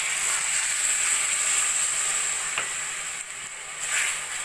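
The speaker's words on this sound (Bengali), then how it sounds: "এবার দিয়ে দেবো আমি 1 কাপ দুধ।" Carrot halwa cooked with jaggery hisses and sizzles steadily in the pan as a cup of milk goes in, a bright continuous frying noise with a few soft clinks and stirring scrapes and no talking.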